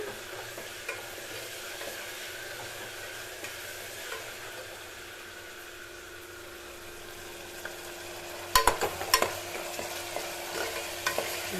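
Mutton kuzhambu paste fries in a pan over a low flame, a steady soft sizzle with a burst of stirring scrapes and clatter near the end.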